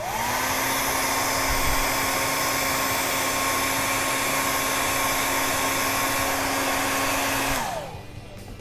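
A hair dryer blows on wet paint on a crankbait fishing lure, giving a steady, loud whirring hiss that holds for about seven and a half seconds before it switches off and winds down.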